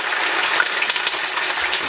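Steady crackling sizzle of chopped onions with ginger-garlic paste frying in hot oil toward golden brown for chicken biryani, close and continuous, with no voices.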